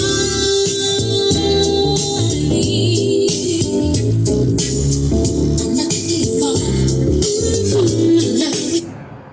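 A car stereo system fitted to a motorcycle blasts loud music with heavy, booming bass and bright, crashing highs in a dense, unbroken wall of sound that cuts off abruptly at the end.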